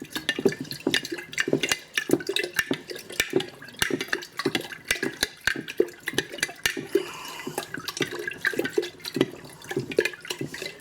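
A ginger bug mixture is stirred in a jar, a spoon clinking and scraping against the glass in quick irregular taps with wet swishing, close and fairly loud, with no voices.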